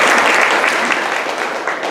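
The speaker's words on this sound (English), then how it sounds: "Hopefully that will be the last time that you applaud until after the program's over" An audience at a community meeting applauds, a dense, steady clapping that fills the room at full volume for the whole stretch.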